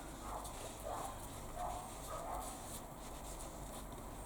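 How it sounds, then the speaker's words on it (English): Several neighbourhood dogs bark at a distance, faint intermittent yaps rising over a steady background hum, with no speech. "I'm sorry if you can hear all those dogs barking in the background."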